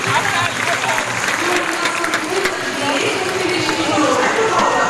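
A stadium crowd at the Gateshead Diamond League athletics meet claps and cheers in a loud, sustained wash of applause. A commentator talks over it.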